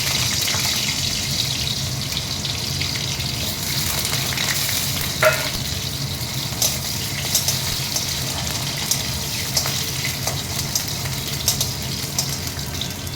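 Potatoes frying lightly in hot oil for a vegetarian vegetable dish, a loud, steady sizzle with faint crackles and an occasional stir or clink, no talking.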